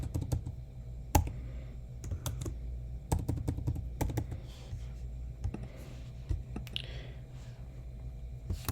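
Typing on a computer keyboard while entering customer details into a search form, with steady irregular key clicks and a few sharper taps, close and alone.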